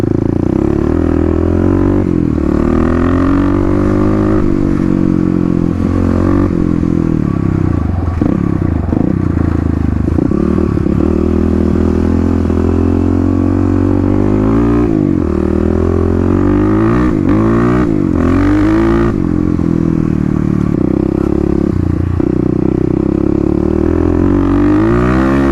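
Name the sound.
Kawasaki KLX351 motorcycle riding laps, lidless airbox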